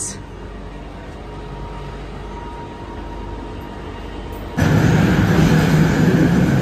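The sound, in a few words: train ride interior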